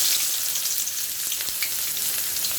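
Onions sizzle as they fry in a hot kadai, giving a steady, close, bright crackle with no break and nobody speaking over it.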